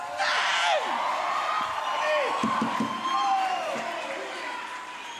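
Congregation at a church sermon cheering and whooping, a loud crowd roar with shouts and yells rising and falling throughout.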